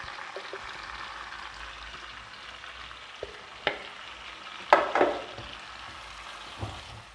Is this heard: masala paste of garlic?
yes